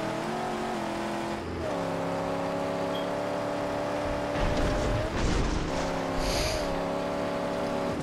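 A car fitted with new exhausts drives in the video game Mad Max, its engine droning and revving steadily up close, with a brief surge of rushing noise midway through.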